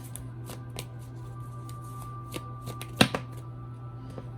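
A deck of tarot cards is shuffled up close with a series of soft riffling bursts and one sharper, louder snap of cards partway through, over a low steady hum.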